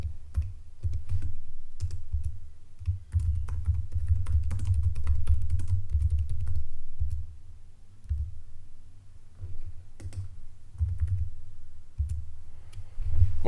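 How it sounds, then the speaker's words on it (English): Someone types an address on a computer keyboard, with quick close clatters of keystrokes in bursts and a few short pauses between them. "we'll type in the address"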